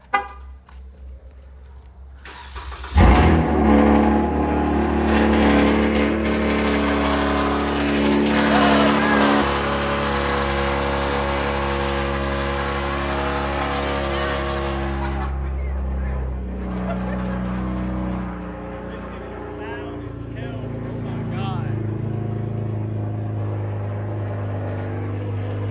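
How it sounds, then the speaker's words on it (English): A loud tuned V6 Dodge Charger engine roars to life and keeps rumbling hard, with a deep sustained growl and rising revs throughout. "Videos do not do justice to how loud this car is"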